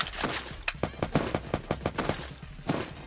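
Gunfire in the video game Free Fire, a rapid run of sharp shots and bursts popping in irregular clusters, fairly loud and close with a few pauses between volleys.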